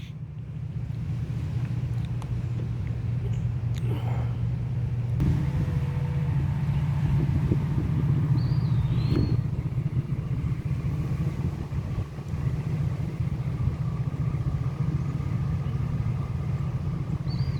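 Barge tows moving on the Mississippi River produce a constant low engine drone and rumble, steady and moderately loud, with wind buffeting the microphone and faint distant sounds drifting over it.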